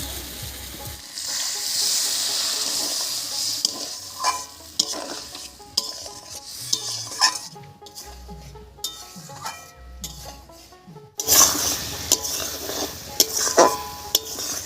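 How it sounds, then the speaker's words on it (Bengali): Mustard paste masala frying with a splash of water in a pan for a river fish curry, repeated stirring scrapes over a bright sizzle that drops away briefly before flaring up loudly again near the end. "এবারে মশলা বাটা জল দিয়ে ভালো করে কষিয়ে নেব"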